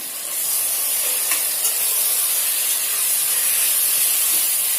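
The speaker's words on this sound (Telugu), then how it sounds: "ఇప్పుడు దీనికి మనం చికెన్ వేసుకున్నాము" Chicken dropped into a pan of fried onions for a chicken curry sizzles loudly as a steady, close, hissing roar with no pauses.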